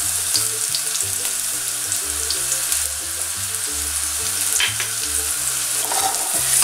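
Shallot and a garlic clove frying in hot extra virgin olive oil in a home kitchen, a steady close sizzle lasting throughout with no talk, alongside a tonal music-like pattern.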